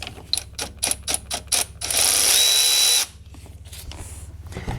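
A ratchet wrench works a 10 mm ground cable nut on a 1999 EZGO TXT gas golf cart. A rapid run of sharp clicks comes first, then a brief whirring tool burst, then quieter clicking.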